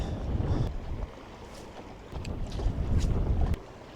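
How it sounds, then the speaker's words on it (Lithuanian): Strong wind blows across a lake at a fishing spot on a wooden pier, gusting in rumbling surges against the microphone, with waves lapping nearby and no talk. "vėjuks toks jau nemažas, vyriška pūt"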